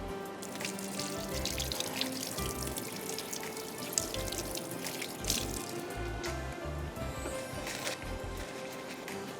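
A kitchen tap runs into a sink as hands are washed during cooking, a steady close stream of water with splashing and irregular drips throughout.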